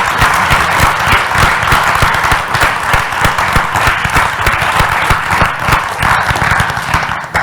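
A lecture audience breaks into loud, sustained applause after a public talk on society, community, health and wellbeing, a dense close clatter of many hands that holds strong and even from start to finish.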